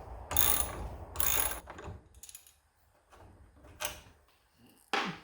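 Ratchet wrench with an 11 mm socket turning the screws on a broken garage door: several bursts of rapid clicking, loud and close, separated by short pauses, with no talking.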